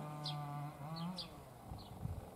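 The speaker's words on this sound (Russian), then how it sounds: "Чирикают. Им тоже хорошо. Весна." Small birds chirp and tweet in a village in spring, quick high calls repeating over a steady low drone, fairly close and moderately loud, with no talking.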